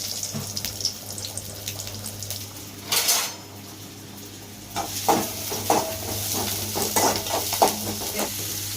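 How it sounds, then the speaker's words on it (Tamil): Onions sauté in a home kitchen pan with a steady sizzle, stirred with scraping and clinking utensil strokes. A louder burst of stirring comes early, then a busier stretch of clatter later, with no talking. "வெங்காயம் கொஞ்சம் சேர்த்துக்கலாம்"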